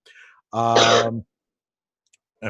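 A single sharp sneeze bursts out close by after a faint breath, followed by silence.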